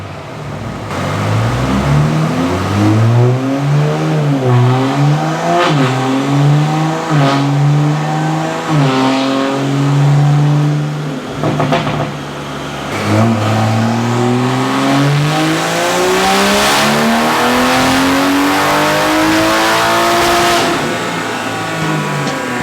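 An 800 hp Toyota A90 Supra, a CES Motorsport build running methanol injection, screams through a full-throttle dyno pull, the engine note climbing steadily in pitch with brief dips at each gear change, loud and close throughout.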